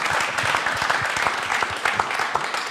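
An audience at a gospel singing broadcast applauds steadily, dense overlapping claps sustained at moderate loudness throughout, with a faint voice mixed in underneath.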